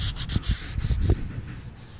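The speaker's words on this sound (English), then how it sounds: "you're going to want to sand it down real nice and get it fairly smooth" Sandpaper rubs lacquer off a wooden axe handle in quick, rhythmic back-and-forth strokes, close and scratchy, about a half dozen passes with no talking.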